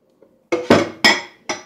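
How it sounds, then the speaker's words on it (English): Dishes being washed clink together in four sharp, close impacts, a faint tap followed by three bright ringing knocks spaced a fraction of a second apart. "And you get this washing some more dishes"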